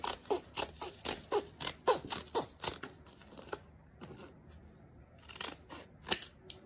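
Scissors snip through paper in a quick, steady open-and-shut rhythm, about a dozen close, crisp cuts followed by a few scattered snips, while paper turkey feathers are cut out by hand.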